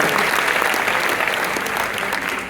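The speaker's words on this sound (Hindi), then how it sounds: "तो एक बार फिर से उनके लिए जोरदार ताली बजा दीजिए" An audience at an IIT BHU talk gives loud, sustained applause, a thick continuous wall of clapping that stays even and close, fading only slightly at the end.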